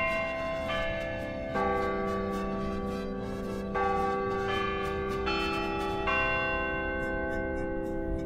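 Large church bells in the belfry at the basilica plaza in Mexico City ring in a steady, overlapping peal, with resonant tones sustaining between strikes and no talking.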